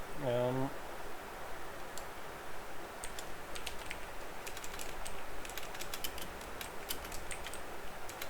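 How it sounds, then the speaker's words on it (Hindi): Keys clack on a computer keyboard while someone types in Microsoft Word, a loose irregular run of light, close keystrokes over a faint steady room hiss. "और उसके बाद मैं टाइप करता हूँ कॉपीराइट"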